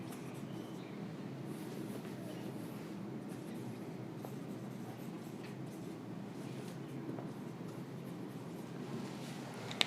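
Chalk or marker writing on a blackboard in a biology class on muscular tissue, a faint steady scratching under a constant roomy background hiss, with no talking.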